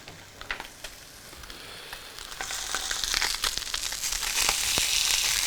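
A sea bass fillet frying in a pan crackles and spits, starting fairly quiet and building into a denser, louder sizzle with sharp pops and rustling.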